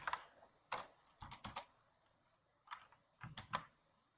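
Code typed on a computer keyboard, quiet close-up key clicks in short bursts separated by pauses, with no talking.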